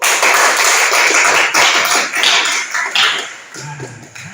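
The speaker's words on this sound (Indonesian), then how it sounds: "tepuk tangan dulu" A classroom group of students claps together in a dense, loud, steady burst of applause that thins out and fades near the end.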